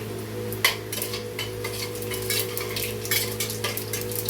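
Tempering spices fry and sizzle in hot oil for potato rice, a steady close crackle with scraping stirs and light clinks of a spoon against the pan, with no talk.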